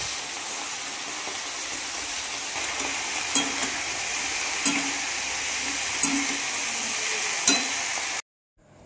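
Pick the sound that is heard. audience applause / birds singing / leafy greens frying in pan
leafy greens frying in pan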